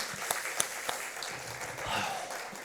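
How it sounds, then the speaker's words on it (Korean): A church congregation applauds during a Sunday afternoon service, a short burst of scattered claps from a moderate-sized crowd with faint murmuring underneath. "우리 박수로 한 번 더 격려 부탁드리겠습니다."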